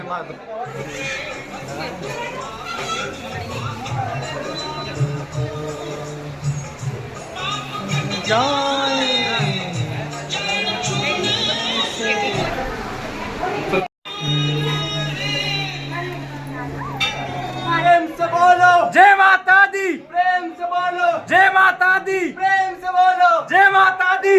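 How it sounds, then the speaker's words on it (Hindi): A dense, loud crowd of devotees fills the Karni Mata temple in Alwar, with steady chatter and overlapping voices pressing close, then rising into rhythmic group chanting toward the end. "भीड़ इतनी काफी है कि भाई चलना पड़ रहा है।"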